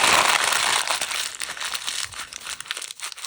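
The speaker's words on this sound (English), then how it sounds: "And then I'm going to take it and I'm just going to crumple it up." A paper bag with its bottom cut off is crumpled by hand up close, producing loud, continuous crinkling and crackling that grows choppier toward the end, with no voices.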